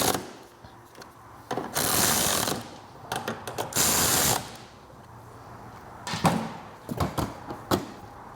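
Latch on a Stella two-stroke scooter being latched and unlatched during a tune-up, with close metallic clicks and clunks and a couple of longer rattling, scraping bursts between quieter moments.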